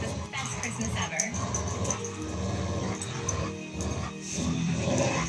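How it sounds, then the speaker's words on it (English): Two dogs growl and yip together at close range, one much louder than the other, in a continuous rumbling tussle with whimpering notes, while a person talks over them. "They're both growling."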